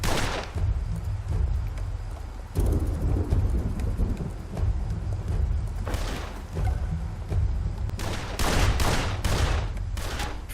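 Loud gunshots from the video game Blues and Bullets crack out in scattered bursts over a constant low rumble, with a rapid cluster of shots near the end.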